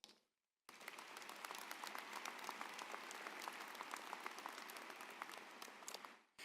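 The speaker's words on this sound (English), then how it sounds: "Please give yourself a round of applause." Sustained audience applause at a college commencement ceremony, dense crowd clapping that begins abruptly after a brief silence and holds steady for several seconds before fading out.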